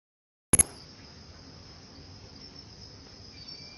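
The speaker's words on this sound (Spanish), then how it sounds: "la presencia de grillos aumenta en la región costa debido a la etapa invernal" Crickets in Ecuador's coastal region during the rainy winter season give a steady, shrill, continuous chirping after a brief click, close and unbroken with no talk.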